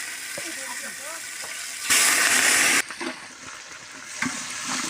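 Garlic and onion frying in oil for bhuna khichuri, a steady close sizzle with stirring scrapes and a louder burst of hissing partway through.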